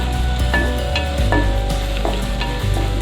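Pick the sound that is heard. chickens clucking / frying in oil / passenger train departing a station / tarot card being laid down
frying in oil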